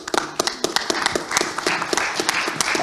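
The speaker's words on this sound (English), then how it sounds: "we can have a warm applause for all 10 startups that shared their ideas today" A conference audience claps after startup presentations, scattered individual hand claps at an uneven rhythm, thin and fairly close rather than a full roar.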